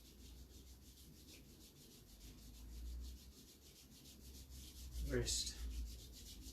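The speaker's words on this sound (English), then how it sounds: "Rub the shoulders. And then down to the elbow." Palms rub slowly over shoulders and arms during a chi gung self-massage, a soft, steady brushing hiss with a brief firmer swipe near the end, and one spoken word.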